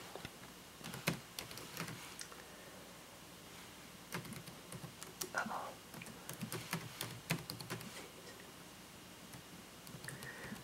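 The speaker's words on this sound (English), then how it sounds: "So here I'm going to type the domain." Fingers type on a computer keyboard in irregular runs of quiet clicks and taps, with short pauses between bursts, close and faint in a quiet room without talking.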